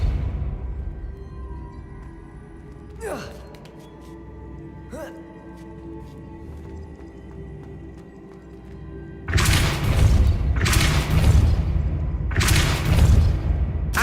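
Depulso spell cast in Hogwarts Legacy gameplay: a couple of sharp whooshing bursts over a humming game soundtrack, followed by three loud, broad surging blasts near the end.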